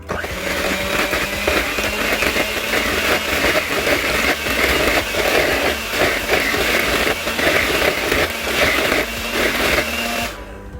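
A blender loudly whirs flan ingredients, including vanilla, into a smooth liquid, with a steady motor drone that runs continuously for about ten seconds before stopping.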